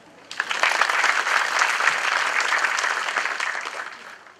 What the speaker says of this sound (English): Let us welcome him with a big clap.